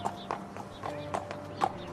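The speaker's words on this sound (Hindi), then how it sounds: "अगले दिन घोड़े पर सवार होकर राजकुमार गौरव और मंत्री जंगल की ओर निकलते हैं।" Horses carrying riders set off toward a forest, their hooves striking in a steady clip-clop of about five soft, fairly close hits over a faint tonal background.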